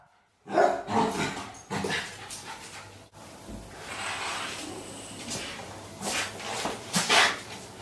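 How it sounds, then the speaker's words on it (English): A pet dog barks repeatedly near a doorway during door training, sharp loud bursts early and again near the end with quieter whimpering stretches between. "at the first attempt he's still pretty full on and barking"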